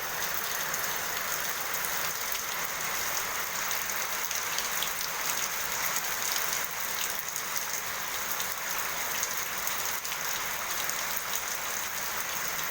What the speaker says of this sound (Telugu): వాన సూపర్గా వస్తున్నది. చూడండి ఇక్కడ ఎంత పెద్ద వాన చూడు.